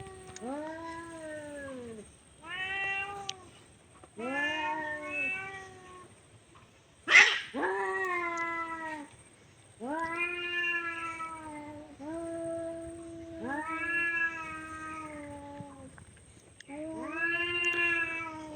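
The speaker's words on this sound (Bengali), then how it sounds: "দেখেন বিড়ালের যুদ্ধ চলছে।" Cats fighting on a village road, with long, wavering, harmonic yowls and caterwauls repeating in drawn-out bursts and one sharp, loud screech near the middle, close and prominent throughout.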